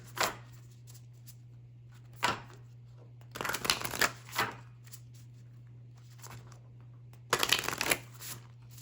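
A deck of tarot cards is shuffled close by in several quick riffling bursts separated by quiet pauses, with a faint steady hum underneath and no talking.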